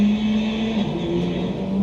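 Motorcycles riding through the same curve at the same speed, heard as a steady engine drone with a constant low tone and a brighter upper whine, no talking.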